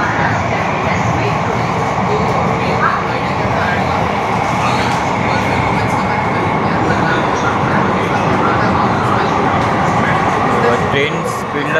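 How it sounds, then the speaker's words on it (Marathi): An underground metro train runs at speed toward CST station in Mumbai, a loud, continuous rumble and roar with rattling that fills the whole stretch, a crowd faintly audible beneath. "ट्रेन स्पीडला बघत आहे मेट्रो ट्रेन."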